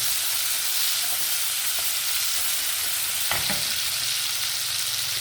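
Chopped tomatoes stirred into hot oil in a pan for chicken curry, with a loud continuous sizzle and a few scraping stirs close by. No one talks.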